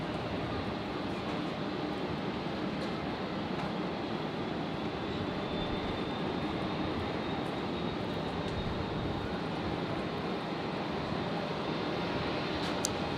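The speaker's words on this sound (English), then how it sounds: "So Qantas Link 422 arriving in from Newcastle." QantasLink flight 422 arriving from Newcastle, a steady, moderately distant jet rumble and hiss that carries evenly throughout.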